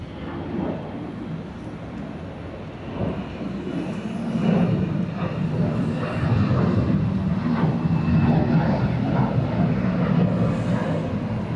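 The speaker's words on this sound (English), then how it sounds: "There's the big Korean jet here." A large Korean jet airliner rumbles at Atlanta airport, a steady broadband engine roar that swells after a few seconds and holds loud and near to the end, with no talk over it.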